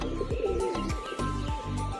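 Pigeons cooing close by on a rooftop loft, repeated soft throaty coos in a steady rolling rhythm, with no talking.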